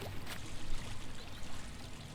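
Water in the video game Starfield flows and pours in a steady, soft rushing wash that runs the whole time without talk.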